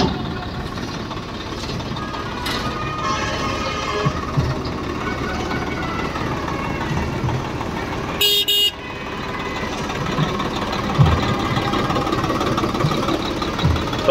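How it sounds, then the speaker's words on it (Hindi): A tractor's diesel engine idles and revs with a loud, rough, continuous chugging rumble close by, broken by a brief sharp horn toot midway, no talk over it. "कातिल आवाज है इस ट्रैक्टर की"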